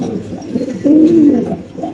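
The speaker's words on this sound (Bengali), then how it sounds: "কবুতরের ডাকটা ইনশাআল্লাহ স্পষ্টভাবে ইনশাআল্লাহ ক্লিয়ার করে আপনাদের দেখাই দিলাম" A Spanish pigeon coos in a low, rolling burst that swells in the middle, over a steady background hum; close and clear.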